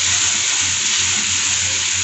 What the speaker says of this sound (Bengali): এর মধ্যে একটু জল অ্যাড করব